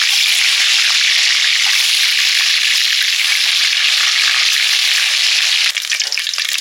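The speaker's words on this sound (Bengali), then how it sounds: "ডিমগুলো হালকা ভেজে তুলে নিলাম।" Eggs coated in salt and turmeric frying lightly in hot oil in a home kitchen, a steady loud sizzle that carries on without a break and thins slightly near the end.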